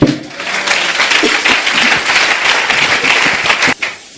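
A church congregation applauding, dense sustained clapping from many hands that fills the room, briefly dropping out near the end before resuming, with a faint voice mixed in.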